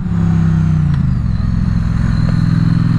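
Triumph Street Twin motorcycle engine droning steadily while riding, a loud close low hum that dips slightly in pitch after a moment and then holds even, with no voices.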